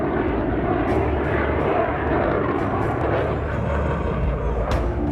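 A Tejas jet aircraft engine roars continuously at the Dubai Airshow, a loud, broad rumbling rush with some fluctuations, heard without any talking.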